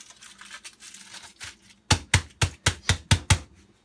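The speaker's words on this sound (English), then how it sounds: "we're going to fold the foil back over the steak" Aluminum foil folded back over a steak, first soft crinkling rustles, then a run of about eight sharp, evenly spaced crisp crackles up close as the foil is pressed and creased.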